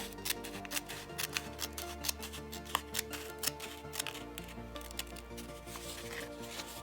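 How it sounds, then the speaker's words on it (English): Scissors snipping and nibbling away at a part of a MiG-21 paper or card model kit, a rapid series of small crisp cuts close up, with a low steady hum underneath. "once I've got the jaws of the scissors in there, then I can kind of nibble away like this"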